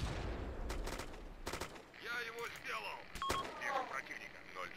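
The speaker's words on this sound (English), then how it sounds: "Bullets hitting in front of me." Bullet impacts and scattered gunfire crack close by in the Arma 2 combat game, sharp bursts early then sparser hits amid distant battle noise and faint radio-like chatter.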